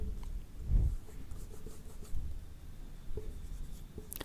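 Pen or marker writing on a board during a reasoning lesson, with soft scratchy strokes and taps coming in short irregular bursts, fairly quiet and close.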